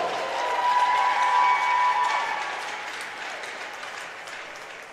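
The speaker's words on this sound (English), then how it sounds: "Give a round of applause." Applause at an ice rink for a 14U youth hockey team, a swell of crowd clapping over a faint sustained tone, peaking early then gradually fading in the echoing arena.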